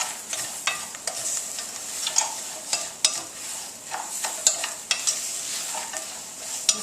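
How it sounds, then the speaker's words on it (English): Carrots stirred in a pot for rice almond pilaf, a close run of repeated scraping and clattering strokes over a light sizzle, with no talking. "Give that a little stir."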